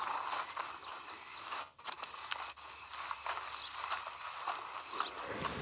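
Horse hooves clip-clopping in the video game Red Dead Redemption Online, heard as a soft, steady walking rhythm of hoofbeats under faint game ambience and occasional clicks.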